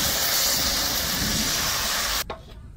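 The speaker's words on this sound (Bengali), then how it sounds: "এখন ভাজা হচ্ছে কড়াই গোড়ানো পিঠে।" Pitha fry in a wok with a loud, hissing sizzle that holds steady, then cuts off abruptly near the end, leaving only faint low sounds.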